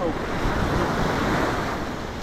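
Surf at Nawiliwili Beach in Hawaii, a steady, loud roar of breaking waves mixed with wind buffeting the microphone, continuous throughout with no talking.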